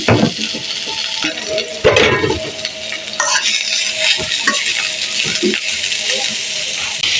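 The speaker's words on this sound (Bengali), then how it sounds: "শাক ভাজি করার জন্য আমি এখানে রসুন কুচি, পেঁয়াজ কুচি এবং পরিমাণ মতো কাঁচামরিচ নিয়েছি" Greens sizzle in a pan with chopped garlic, onion and green chilies while being stirred, with loud scraping strokes and clinks over a steady frying hiss.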